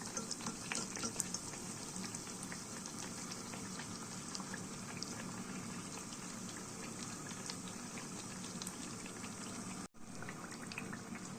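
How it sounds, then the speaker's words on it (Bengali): Egg pitha, a rice cake, sizzles and bubbles in hot oil in a pan, a continuous close frying crackle with no talk and a momentary dropout near the end. "পিঠাটা ভেজে নিচ্ছি।"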